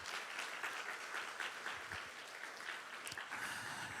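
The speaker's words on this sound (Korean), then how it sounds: "우리 장년분들에게 감사하다고 박수 한번 칠까요, 우리 청년들?" A church congregation at a youth mission-trip sending service claps together, a dense, even wash of many hands that holds steady throughout, heard from a distance and fairly quiet, with faint murmuring underneath.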